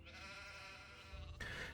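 A sheep in the video game Gothic 2 bleats in one long, wavering, nasal call over a farm ambience, then a second, shorter bleat rises near the end, with no talking.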